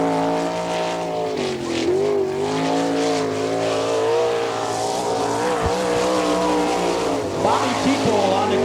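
A sprint car, number 18 on a Gambler chassis, screams through a qualifying lap at Attica racetrack in Ohio, its engine loud and wavering in pitch as it rises and falls around the dirt oval, with a track announcer talking over it throughout.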